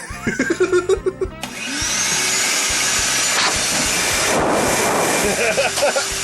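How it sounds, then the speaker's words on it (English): A vacuum cleaner used as a blower in place of a compressor starts up after a brief voice and then roars loudly and steadily, with a whooshing airflow hiss throughout. "it's a vacuum cleaner instead of a normal compressor"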